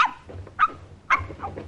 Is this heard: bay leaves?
no